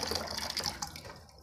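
Faint water running into a container from a tap for a brief moment while setting up pigeon housing, a soft steady pour that tapers off.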